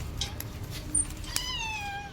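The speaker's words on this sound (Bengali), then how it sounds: "ম্যাও।" A house cat gives a single drawn-out meow with a falling tone, close by and fairly clear over a quiet room, preceded by faint rustling and no talk.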